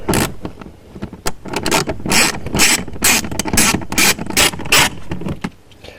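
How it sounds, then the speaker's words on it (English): Bolts are undone under the driver's-side kick panel of a Toyota Land Cruiser 200, with a close, rapid run of ratcheting clicks and mechanical rattling in bursts, ending in quieter handling noises. "we need to remove these two bolts on the underside of the kick panel"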